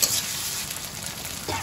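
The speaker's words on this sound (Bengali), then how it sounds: "পেঁয়াজটা ভালো মতো ভাজা ভাজাবো, একদম লাল লাল করে" Onion sizzles in hot oil in a pan with ginger, garlic and green chili paste, a steady close frying hiss with soft stirring scrapes and no voices.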